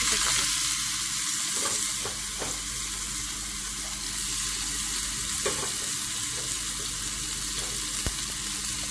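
Boiled tapioca peel sizzles continuously in hot oil with popping mustard seeds in a pan, a loud steady frying hiss with occasional sharp crackles and stirring scrapes.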